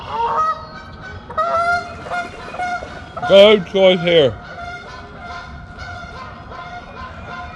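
Several geese honk loudly at close range in a burst of harsh, rising calls, with a person talking briefly before and around them.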